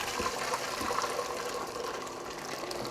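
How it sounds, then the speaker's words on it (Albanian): Water pours steadily into a pot of rice on a home stove while summer soup with tomatoes and onions is being made, a continuous broadband rushing gush at moderate level with no talk. "Do t'i hudh pak ujë, ta përvloj pak orizin."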